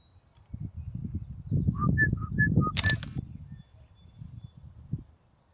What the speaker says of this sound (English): I should call that bird Old Bicycle Pump.